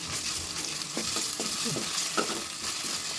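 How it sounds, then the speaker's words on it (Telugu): Ginger garlic paste frying in oil for chicken curry gives a constant loud sizzle, with a few soft stirring scrapes through it. "అందులో ఒక టీ స్పూను అల్లం వెల్లుల్లి పేస్ట్ వేసుకుందాం."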